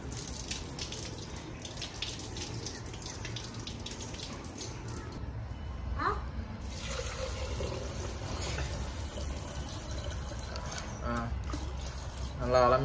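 Running water splashes and trickles in a sink as rice is swished and rinsed for making pongal, with occasional clinks and a louder splash near the end.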